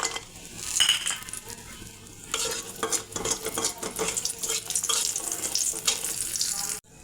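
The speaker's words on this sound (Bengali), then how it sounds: "এবার বড়িগুলো ভেজে নেব।" Lentil dumplings (bori) fry in mustard oil with a bright, continuous sizzle, broken by scraping stirs and clinks of a utensil against the pan, close and fairly loud.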